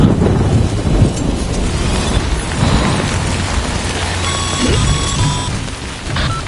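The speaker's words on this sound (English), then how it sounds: "Good thing it was raining." In the video game Death Stranding, heavy rain hisses steadily and loudly with rumbling thunder and a few faint electronic tones near the end, dense and unbroken throughout.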